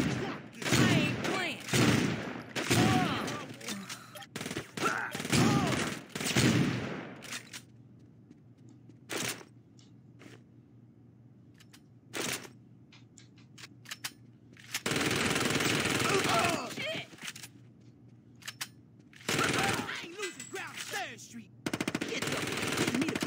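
Gunfire in Saints Row comes in loud rapid bursts of automatic shots, with pauses and near silence between volleys. Scattered single shots follow, then heavy sustained firing returns, and a voice is heard in places.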